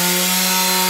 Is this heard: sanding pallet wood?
yes